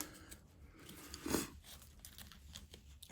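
A deer leg joint and tendon are broken by hand during skinning, giving faint crunching and tearing with one sharper snap partway through, close and quiet with no talking.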